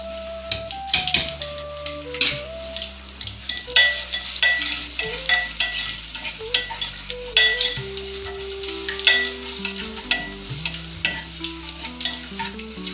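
Ghee tempering crackling and sizzling in a pan with dal, steady close frying with frequent sharp pops and stirring clinks over the whole span, with a faint melodic background tone running underneath.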